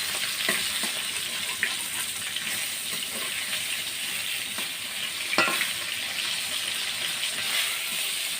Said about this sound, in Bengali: মাছের মাথাগুলো ভেজে নিচ্ছি।